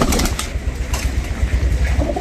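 Pigeons cooing in a village loft, low soft throaty coos repeating close by over a continuous rustling background, with a brief flutter near the start.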